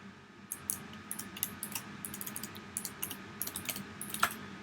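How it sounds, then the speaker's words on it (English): Typing on a computer keyboard while writing Python code makes a run of light, irregular key clicks with short bursts and pauses, close but soft, with no talking. "Let me make sure I'm not typing just old Python up there."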